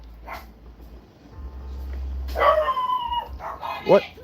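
Several dogs bark indoors in a few short, sharp bursts, one after another and then a louder yip near the end, over a low background hum.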